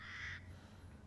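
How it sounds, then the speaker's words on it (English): A single harsh bird caw rings out briefly at a distance in the video game Resident Evil Village, followed by quiet background hum. "there's like a lot of birds up there."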